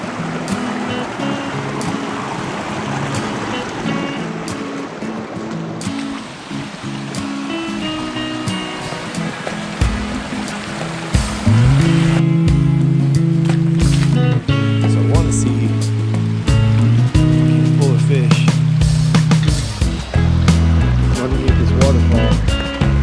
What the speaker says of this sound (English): Now this is pretty cool. Got a nice little waterfall going.